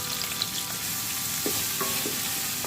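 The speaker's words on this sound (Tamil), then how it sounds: "வெங்காயம் சீக்கிரமாக வதங்கணும்னு கொஞ்சமாக உப்பு சேர்த்து இதை நல்லா வதக்கி விட்டுக்கலாம்" Onions with a little salt sautéing in a pan for a chicken fry, a soft constant sizzle with a few light stirring scrapes and taps, close and quiet, no voices.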